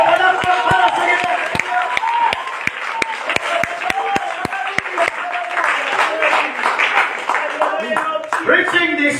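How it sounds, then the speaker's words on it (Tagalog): A church congregation at a Bisaya-language worship service claps for the Lord, a burst of sharp, rapid hand claps that swells into crowd applause, with a preacher's voice and cheering over it. "Kaya magsusok ka palakpak para sa Ginoo."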